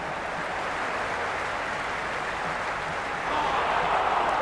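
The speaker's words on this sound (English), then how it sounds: "It's evident and ever so audible that the crowd is at near bursting point at today's play." A large crowd at an India–Pakistan cricket match roars and applauds in a continuous dense wash of noise that swells slightly toward the end.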